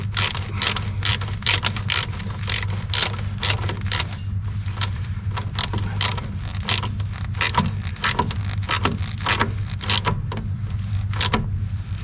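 A socket wrench ratchets in quick bursts of sharp clicks with short pauses between strokes as it tightens a horn mounting on a Kubota LX2610 tractor, close and clear.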